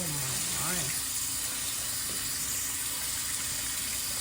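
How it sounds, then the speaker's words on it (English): A wig being washed and rinsed under a running tap: a steady, close rush of water, with a voice briefly at the start. "So now we're going to wash it out and shampoo it again."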